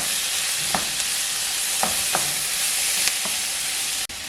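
Chicken and vegetables for fajitas fry together in a pan with a steady, bright sizzle, broken by a few soft clicks and scrapes of stirring.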